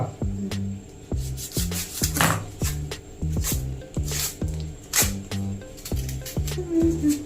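A knife chops onion for a fish curry on a board in a home kitchen, making crisp, regular taps at a steady rhythm, close up. A voice speaks over the chopping.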